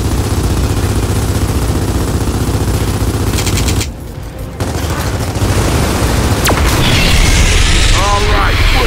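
Gunfire and explosions fill a battle in the video game Gears of War 4: loud, continuous automatic fire and booms with a brief drop near four seconds, then a heavy barrage resumes.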